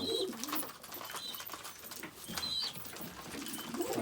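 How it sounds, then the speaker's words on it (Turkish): A tumbler pigeon sitting on eggs in a coop at night gives soft, repeated coos. Faint rustling and scratching sounds nearby. "şimdi yumurtaya yatıyor taklacı kuş"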